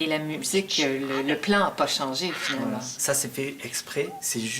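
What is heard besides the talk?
No everyday noise stands out behind the speech.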